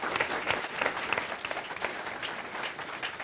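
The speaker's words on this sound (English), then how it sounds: "I want to thank, give Joe Howery a round of applause" Audience applause at a state senate district 19 debate, a dense sustained round of clapping from a crowd filling the room at moderate level with no speech over it.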